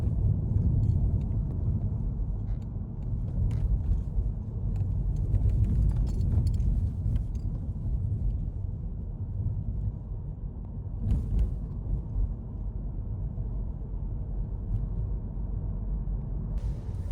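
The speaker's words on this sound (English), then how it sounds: "Traffic on the bridge." Steady low rumble of road traffic crossing a bridge, a continuous near drone of tires and engines with occasional lighter rattles and no voices.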